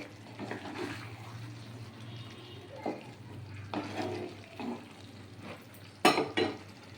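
A ladle stirs a soybean korma mixture in a cooking pot, bringing soft wet scrapes, sizzles and occasional knocks against the metal, uneven and close, with a louder clatter near the end.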